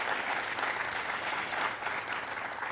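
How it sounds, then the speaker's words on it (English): Brisk, steady applause from a graduation ceremony audience clapping for educators, a dense patter of many hands at moderate distance with no talking over it. "Let's give our educators a round of applause"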